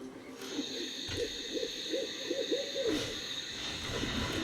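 A bird hoots in the MTG Arena video game, a short series of rhythmic owl-like hoots in the middle of the clip over a soft game background hum.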